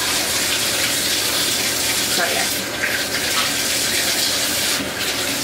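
Tap water gushes steadily into a basin being filled to bathe a baby, a loud continuous splashing hiss with a short spoken remark partway through.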